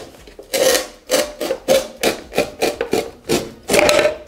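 A Wolfcraft VLC 800 lever cutter slicing through parquet flooring boards, giving about seven loud, rasping crunches in a steady rhythm, each a short burst close by with no talking.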